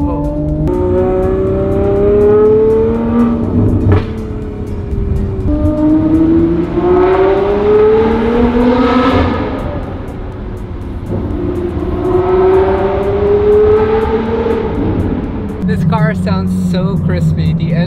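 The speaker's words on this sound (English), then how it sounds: "The engine is just like just fine symphony." A loud sports car engine revs and climbs through the gears, pitch rising and falling repeatedly as it accelerates, with a sharp shift near the end.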